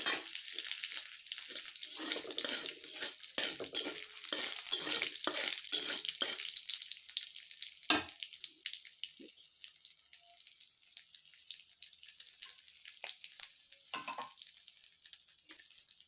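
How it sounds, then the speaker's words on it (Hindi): Steady sizzling of spices and broken dried red chilies tempering in hot oil for shahi paneer, with scraping stirs and clinks, loud at first and then settling into a quieter crackle. "अब मैं इसमें तड़का लगाऊंगी"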